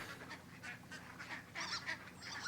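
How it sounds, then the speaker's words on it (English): Ducks quack and honk in the Firewatch wilderness, several faint calls in quick succession with no talk. "The sounds of ducks are everywhere."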